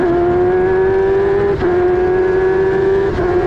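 F1000 race car engine heard from onboard at sustained high revs, a loud, steady, buzzy drone with two brief dips as gears shift, no voices.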